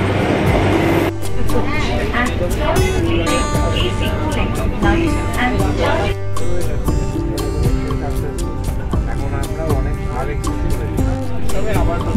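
Interior of a Vande Bharat express train on a return trip from Santiniketan, with a steady loud rumble of the moving carriage and sustained tonal hum throughout, plus voices and onboard sounds over it.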